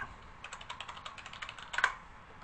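Quick bursts of keystrokes on a computer keyboard as a search term is typed into Google, a fast run of close, crisp clicks ending in a slightly harder tap.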